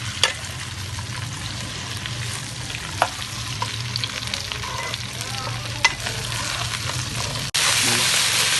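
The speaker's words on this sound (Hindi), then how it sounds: "भिंडी को हम तकरीबन 4-5 मिनट तक फ्राई करेंगे ताकि इसकी जितनी लेस है वो खत्म हो जाए।" Finely chopped okra frying in hot ghee with constant loud sizzling and occasional stirring clicks, close up, ending in a sudden louder burst of sizzle.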